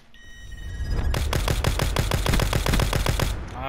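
Vendetta sniper rifle firing in Call of Duty Blackout, a loud, rapid string of about a dozen evenly spaced, close shots that fills most of the moment, preceded by a faint rising whine.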